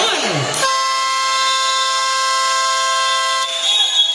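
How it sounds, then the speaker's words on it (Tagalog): A basketball shot clock buzzer at a semifinal game sounds as one long, loud, steady electronic tone lasting about three seconds, with crowd noise before and after. "Wait for the buzzer."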